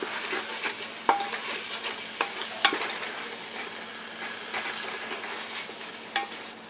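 A spoon stirs a handful of fresh mint leaves into mushroom biryani masala frying in a pan, with a steady sizzle and several soft scraping clicks, close and quiet, no talking.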